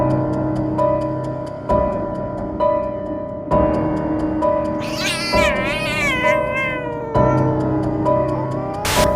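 A cat meows and yowls in a horror film scene with Chucky the doll, one long wavering cry rising over a loud, droning, rhythmically pulsing eerie score.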